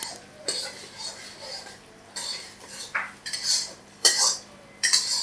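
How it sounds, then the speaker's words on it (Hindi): Kata kat roasting on a tawa over high flame: sharp metal spatulas clatter and scrape against the griddle in irregular bursts, with quieter sizzling between strikes. "अब आँच जो है ना उसको तेज़ रखना है और इसकी भुनाई स्टार्ट करनी है।"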